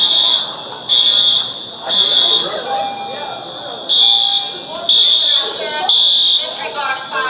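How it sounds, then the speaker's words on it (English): A school fire alarm sounds in repeated loud electronic buzzing bursts with short gaps between them, while students talk and chatter underneath. "Please disregard fire alarm."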